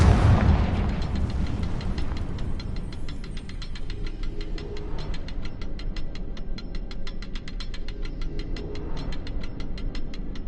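A Confringo fire spell bursts in Hogwarts Legacy gameplay, opening with a loud booming blast that fades into a sustained rumbling crackle and a rapid ticking pulse of burning debris, no voices.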